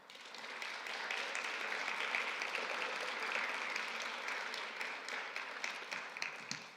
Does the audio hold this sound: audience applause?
yes